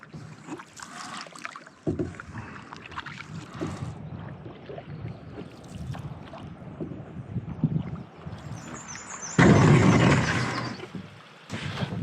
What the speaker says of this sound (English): Just paddling right across the bay here, right across this lake to the